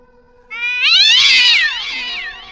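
A cat in a derelict ruin meows loudly and alone, a long drawn-out caterwauling cry with rising and falling pitch lasting about two seconds.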